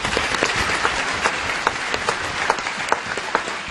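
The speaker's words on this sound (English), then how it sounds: "another special round of applause to all these talented founders" A conference audience applauds steadily and continuously, a dense near wash of many clapping hands with scattered sharper claps, with no talking over it.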